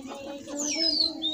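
Pigeons, including a Teddy male, give a brief soft cooing call at close range. A low murmuring coo is joined by a higher thin tone, with no talking.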